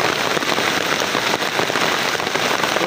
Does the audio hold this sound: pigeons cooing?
no